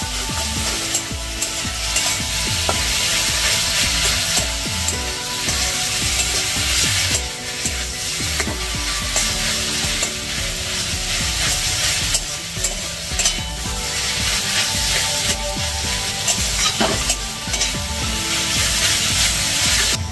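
Fish mince kochuri filling is stirred with spices in a pan, a steady, close scraping and frying sizzle that runs continuously for twenty seconds with a few louder scrapes and no talk.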